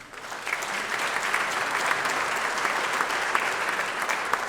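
A business awards audience gives sustained, moderately loud applause, with dense clapping from a large crowd and no speech.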